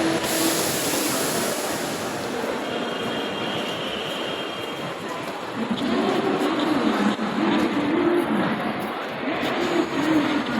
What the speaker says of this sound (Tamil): ட்ரெயின்லாம் இங்கே அடிக்கடி வந்துட்டு போயிட்டே இருக்கும்.